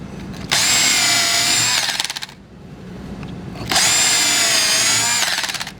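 Power drill boring a 3/16 clearance through hole, two loud close bursts of high whining spin, each about one and a half seconds, separated by a short quiet pause.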